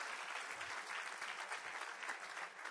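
A church congregation claps in praise during a service, a dense, even burst of applause lasting throughout, slightly distant and without speech.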